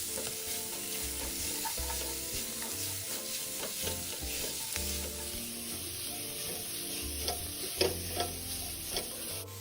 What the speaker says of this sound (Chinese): 加入肉末，用锅铲压散，再炒到变色，出一点油。